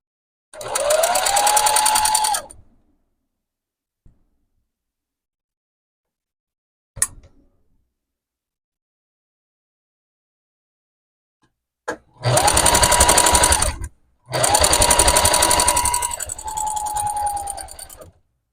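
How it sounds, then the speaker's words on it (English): A sewing machine stitches a junk journal cover in three loud bursts, with a short one first and a longer pair near the end, separated by silence and a few faint clicks. "Give it a sew."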